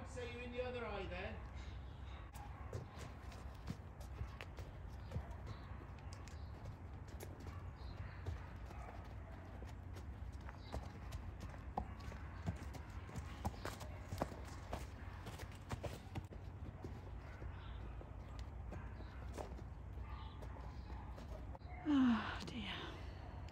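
Horse hooves clip-clop steadily at a walk throughout, fairly close, with quiet handling voices and breathing under it and a brief whinny near the end.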